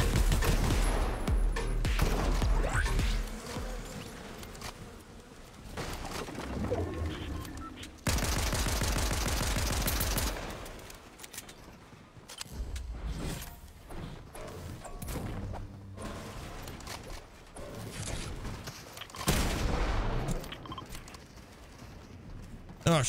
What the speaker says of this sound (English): Shooting here right now.